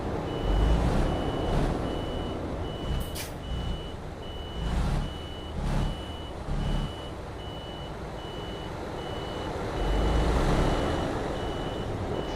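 A truck in Euro Truck Simulator 2 sounds its reversing alarm, a regular train of evenly spaced electronic beeps running over a low engine rumble, with a few louder bursts and swells of engine noise.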